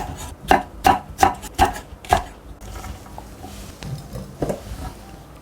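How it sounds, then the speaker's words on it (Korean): A knife chops red chili pepper on a cutting board in five quick, evenly spaced strokes, then the work continues more softly and sparsely with a couple of lighter taps near the end. "이것도 이렇게 너무 가늘지 않게 썰어주세요."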